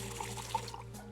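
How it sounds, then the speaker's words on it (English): Pilsner beer poured in the video game Trüberbrook, with soft liquid trickles and small drips over a steady low hum. "Truda, would you pour me one of your Pilsner beers, please"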